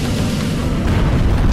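A missile explosion in the space combat game End Space makes a deep, continuous rumbling boom that fills the short moment at full loudness.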